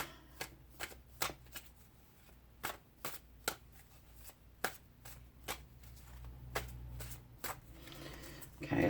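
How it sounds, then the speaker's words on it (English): Tarot cards shuffled close up in a quiet room, a string of sharp riffling flicks and snaps coming in uneven bursts, with a soft voice stirring near the end. "Okay, I shuffled those pretty good."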